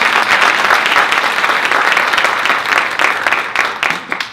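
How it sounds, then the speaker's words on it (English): An audience at a professional HR conference presentation bursts into loud, sustained applause, a dense wash of many hands clapping close and full before tapering slightly at the end. "Let's give her a round of applause."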